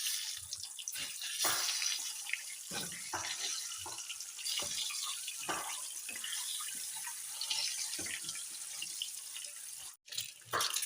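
Eggs frying in hot oil with turmeric give a continuous, fairly faint sizzle and crackle with scattered small pops and spits, steady throughout with no talking.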